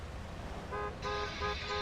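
Road traffic in the video game GTA San Andreas, a low engine rumble followed by a couple of short, overlapping car horn toots close by.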